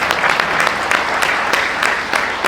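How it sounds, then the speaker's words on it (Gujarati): Audience applause at a religious blessing gathering in Nairobi, with steady dense clapping from a crowd filling the whole stretch at an even level and no voices over it. "તાળી તો પાડો ભાઈ."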